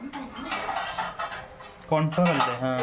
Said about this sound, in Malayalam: നല്ല ഒന്ന് ബീറ്റ് ചെയ്തിട്ട് ഞാന് ഇത് നമുക്ക് ഇങ്ങനെ കട്ട പിടിക്കാണ്ട് നല്ല ഒന്ന് ബീറ്റ് ആക്കി എടുക്കണം.